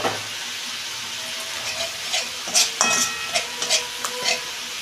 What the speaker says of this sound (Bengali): এইটা আমি ভালো করে কষাবো